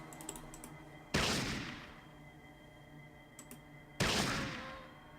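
Two loud gunshots crack in Fallout as the player fires at mole rats, about three seconds apart, each decaying quickly, with faint clicks and small sounds in the gaps between them.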